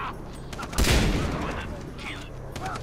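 A burst of gunfire in the Far Cry 3 video game, a loud volley of shots with a booming onset that fades over about a second, under faint background voices.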